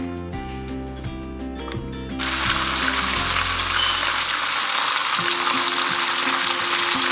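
Oxtails browning in olive oil in a pot, starting with low background tones, then a loud, steady hiss of frying that fills the rest, close and continuous, with no talking.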